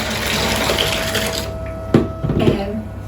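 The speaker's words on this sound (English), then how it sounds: "then you add your cold water in to help" Cold water poured into a foot soak dish with dissolving crystals, a steady splashing rush for about a second and a half that then stops, followed by a few brief knocks.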